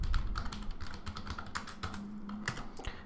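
Steady typing on a computer keyboard, a quick run of close, light key clicks with a low hum underneath and no voices.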